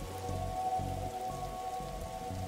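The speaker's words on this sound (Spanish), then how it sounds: "Uy, llueve." Steady rain patters on a surface in the game The Darkside Detective, a constant close hiss with a low rumble underneath, with no speech.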